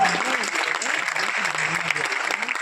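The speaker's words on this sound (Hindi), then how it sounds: "आप सबकी जोरदार तालियों से" Audience applause welcoming a speaker onto the stage at a motivational seminar in Prayagraj, a steady dense clatter of clapping hands lasting throughout, with voices talking faintly beneath it.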